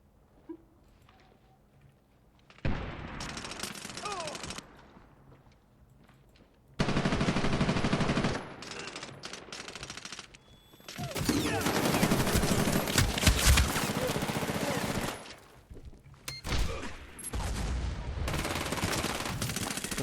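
Gunfire in the video game Medal of Honor: Warfighter, with loud bursts of automatic fire crackling in several separate volleys and brief quieter gaps between them.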